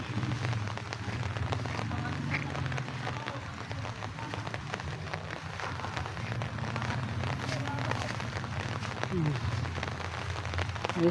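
Heavy rain pours steadily on surfaces in a vegetable garden, a dense continuous patter with scattered sharper drops, moderately close and unbroken throughout.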